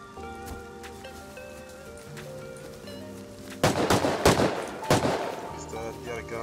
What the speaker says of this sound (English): He's getting shot by the turret.